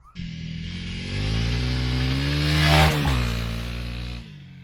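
A 2021 Honda CRF300L dirt bike engine starts and runs close by, a steady buzzing idle that swells in a rev around the middle before settling and cutting off.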